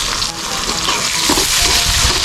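Garlic, onion and tomato sauté in a hot pan with a loud, dense, continuous sizzle and crackle, close up and with no voices over it.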